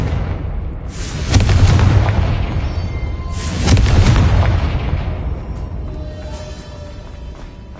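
Confringo fire spell blasts in the video game Hogwarts Legacy, two loud booming explosions a couple of seconds apart, each rolling off into a long fading rumble.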